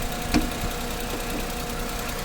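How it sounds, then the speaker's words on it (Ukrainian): Small 2008 Daewoo Matiz automatic with 122,000 km, its cold engine idling evenly under the open bonnet, a steady close mechanical hum with one brief knock near the start. "Так, дивимося, отак робить двигун. Ровно робить."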